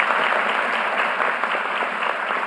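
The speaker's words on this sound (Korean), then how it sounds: "더 잘하시라고 박수 한번 부탁드립니다." Audience applause at a town hall meeting on Jeju, dense and steady clapping from a crowd held at an even level throughout.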